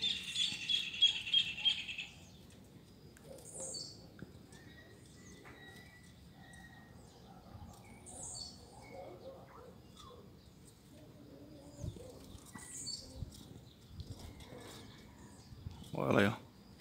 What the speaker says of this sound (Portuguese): O Mac abrindo o canto aí, ó